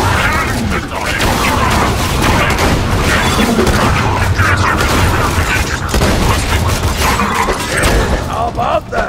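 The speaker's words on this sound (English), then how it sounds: "God, he's exploding." A robot blows up in Borderlands 2 amid dense, continuous booming and gunfire-like blasts that fill the scene loudly, with voices talking over the chaos.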